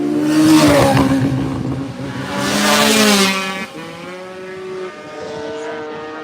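Two-stroke racing motorcycles in a mixed-class road race scream past one after another, a loud rising and falling engine wail that fades as the next bike approaches.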